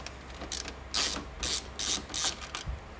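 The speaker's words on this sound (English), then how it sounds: "You want to go ahead and take those screws out." A Phillips screwdriver backs screws out of the side panel of an Epson printer, giving short bursts of dry ratcheting clicks in four or five spaced runs, close by and fairly quiet, with no talk.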